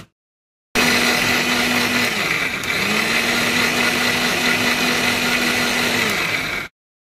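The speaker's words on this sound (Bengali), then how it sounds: "এই যে আদা রসুন পেঁয়াজ একটু পেস্ট করে নিই।" A kitchen blender whirs steadily for about six seconds, grinding ginger, garlic and onion into paste, its motor pitch dipping briefly midway before resuming; no talk.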